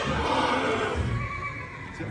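A mare in heat neighs loudly and close by in one long, shaky whinny that fills the short moment, with no talk over it.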